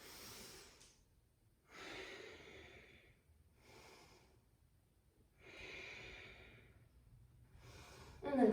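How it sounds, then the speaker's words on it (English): Slow, deep breathing during a vinyasa yoga flow, long audible inhales and exhales alternating at a calm, even rhythm, close and fairly quiet with no talk. "Send that breath in."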